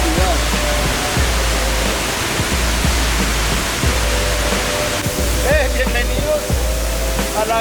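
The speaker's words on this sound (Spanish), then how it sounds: "Bienvenidos a la Garganta del Diablo, segunda y tercera cascada." The Garganta del Diablo waterfall, a cascade of roughly 45 to 70 metres, roars in a loud, constant wash of noise close by. A faint voice speaks under the rush of water.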